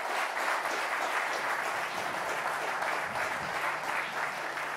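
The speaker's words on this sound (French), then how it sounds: "Et beaucoup d'applaudissements aussi pour saluer ta performance" Sustained applause from a crowd at race headquarters for skipper Armel Le Cléac'h, a steady, fairly distant wash of clapping that holds evenly throughout.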